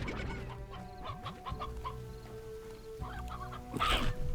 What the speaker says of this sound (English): Okay, you just ate the chicken.